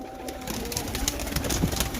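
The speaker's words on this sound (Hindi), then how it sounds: "आज आपको बड़ी स्पेशल शख्सियत के कबूतर दिखाए जा रहे हैं" Pigeons kept on a rooftop loft in Lahore coo softly amid a steady, noisy outdoor background, with scattered faint clicks and no talking.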